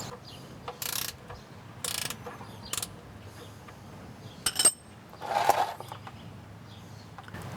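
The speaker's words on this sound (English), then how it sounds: "using a 5/8 inch combination wrench, I'm going to loosen the oil drain bolt." A 5/8 inch combination wrench working loose the oil drain bolt on a 2001 Ford F-150 with a 5.4L engine, producing a few separate close metallic clicks and scrapes spaced apart in an otherwise quiet garage.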